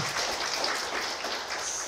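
Audience applause at a Korean book talk and author review session, a steady dense wash of clapping that stays even and fairly loud from start to end, with no voices over it.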